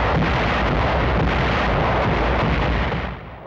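Allied artillery guns firing at night on the Italian front in World War II, a loud, dense, continuous roar of massed bombardment that fills the whole clip and fades slightly at the end.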